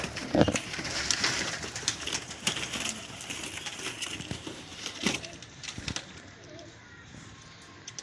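Pigeons coo in a rooftop pigeon club loft, a moderate murmur of calls broken by sharp clicks and knocks, quieter and more distant toward the end.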